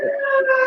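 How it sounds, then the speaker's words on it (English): An ambulance siren on a New York City block gives a loud, sustained wailing tone with steady harmonics that shift slightly in pitch, filling the short moment close by. "I got ambulance riding on the block"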